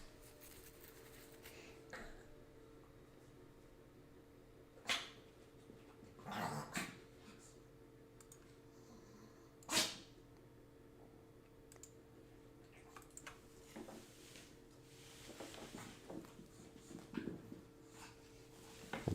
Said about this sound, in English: The dog's being very playful today.